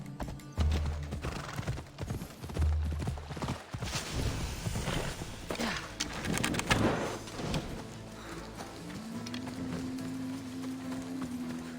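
Phobos the horse gallops in Assassin's Creed Odyssey, with loud rapid hoofbeats in a driving rhythm, a whinny and game music layered underneath, close and continuous.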